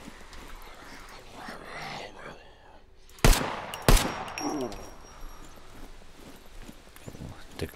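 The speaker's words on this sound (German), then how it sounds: "Weil der Sound von dem Gewehr ist echt gut, ne?" Two sharp, loud rifle shots ring out about half a second apart in the survival video game SCUM, over quiet ambient game noise.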